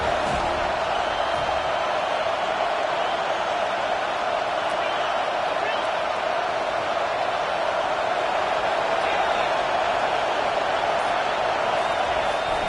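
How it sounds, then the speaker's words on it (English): Stadium crowd in the NCAA 25 college football video game, a steady broad roar swelling on a third-down defensive stand, continuous and loud with no pauses. "Decibels rising as the crowd gets behind this defense on 3rd down."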